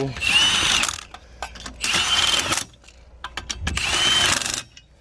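A Milwaukee power tool on setting 2 tightens the lug nuts on an Airstream trailer wheel in a cross pattern, in three loud, close mechanical bursts of ratcheting whir separated by short pauses and small clicks.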